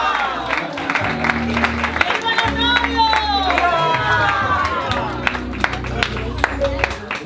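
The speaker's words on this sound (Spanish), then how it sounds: "Aplausos fuertes, que vivan los novios." Wedding guests applaud the newly married couple right after the vows, a steady crowd clapping with scattered cheers, mixed with music and voices throughout.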